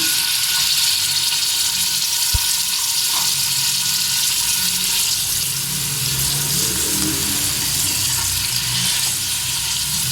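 Sliced onions sautéing lightly in oil for a turnip and meat curry, a steady broad sizzle that runs without a break from start to end, with one brief thump early on.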